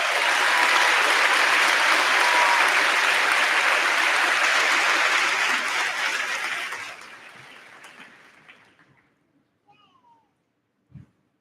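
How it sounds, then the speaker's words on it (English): A graduation ceremony audience at a high school applauds loudly and steadily for about seven seconds, then fades into scattered claps and silence. "Can we give them all a round of applause?"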